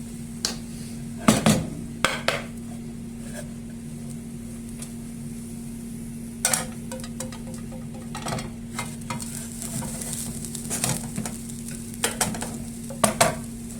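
An oat and egg breakfast patty sizzles steadily in a frying pan after being flipped, with occasional light clicks and taps of a utensil against the pan and no talking.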